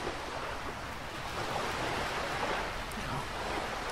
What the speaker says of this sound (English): That noise of that water is really loud